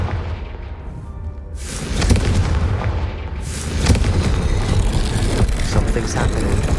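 A Confringo spell blasts toward braziers in Hogwarts Legacy, bursting in with a sharp, loud crackle and boom around two seconds, followed by another strong burst and continuing rumbling impacts.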